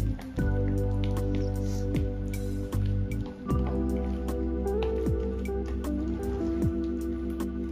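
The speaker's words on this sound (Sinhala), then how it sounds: "ඊට පස්සේ හොඳට ඒක කලවම් කරගන්න." Oat batter being stirred with water, giving soft wet squelches and drips that repeat unevenly over a steady low background hum, close by and moderately loud.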